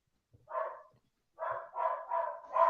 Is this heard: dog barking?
yes